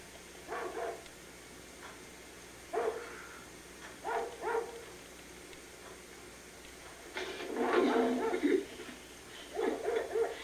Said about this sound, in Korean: 걔가 어찌 저리 짖는가?